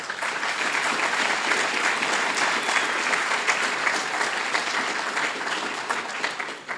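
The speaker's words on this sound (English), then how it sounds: "let's give them one big round of applause" A large audience at an evening arts celebration gives a big, sustained round of applause for sponsors, a dense, even wash of clapping that holds steady and loud for almost seven seconds with no talk over it.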